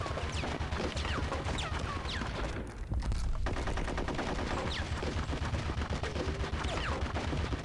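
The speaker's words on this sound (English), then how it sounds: "I'm gonna try shooting again" Dense, continuous gunfire from the video game Conker's Bad Fur Day in a war setting: rapid machine-gun bursts and blasts that barely let up, loud and close, with a brief lull near the middle before the barrage resumes.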